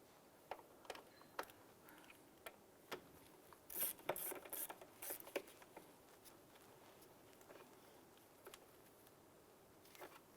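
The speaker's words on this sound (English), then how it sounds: "when tightening these here, once you feel this screw snug down, you want to go just a hair bit more" A ratchet tightens a screw on the cooling fan assembly of a 2011–2019 Ford Fiesta, producing faint scattered clicks with a brief burst of quick ratcheting in the middle, close but quiet, with no voices.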